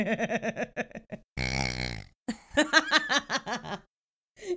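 A squeaky rubber pig dog toy gives a series of honking, oink-like squeals in short rhythmic bursts, with one long drawn-out squeak in the middle.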